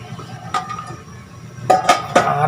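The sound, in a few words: pot lid placed back on cooking pot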